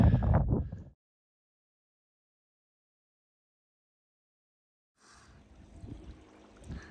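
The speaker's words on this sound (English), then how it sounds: "Got a little creek running here." A small creek running after a storm near Mt Laguna, heard as a soft, steady trickle and flow of water that rises after a stretch of near silence, fairly faint and alone.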